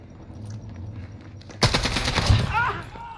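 Rapid bursts of player gunfire in a shooter video game, starting suddenly after a quiet lull and rattling on loud and close for the rest of the moment, with a faint voice underneath.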